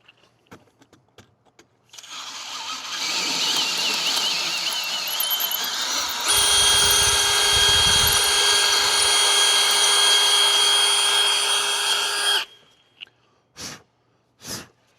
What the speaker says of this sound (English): now we're going to step it up to a bigger drill bit size